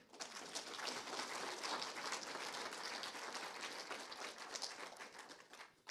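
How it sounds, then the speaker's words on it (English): Audience applause for two speakers at a lecture series session, dense sustained clapping from a large crowd that runs throughout, heard from a moderate distance. "please give our two speakers a loud applause"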